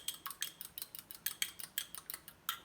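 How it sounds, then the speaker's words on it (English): An egg whisked briskly in a tilted ramekin, a fast, regular run of light clinks and taps, about fifteen strokes, close and crisp with no talking. "So I'm just whisking it."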